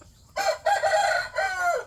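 A fighting cock crows once up close, a loud, clear call broken into three bursts over under two seconds, with a quiet background and no talk.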